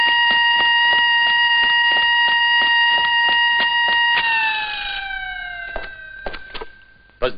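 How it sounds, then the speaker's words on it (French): An alarm signal at a dam in a 1970 war film sounds as a loud, rapidly pulsing multi-tone ring, then winds down in pitch and fades, ending with a few sharp knocks. "Le signal d'alarme vient de sonner."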